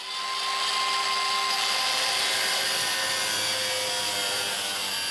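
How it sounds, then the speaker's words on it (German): An angle grinder cuts a steel file into a knife blade, a loud continuous high whine with a steady tone held close for several seconds, no voices. "Das schneide ich jetzt gut mit der Flex ab."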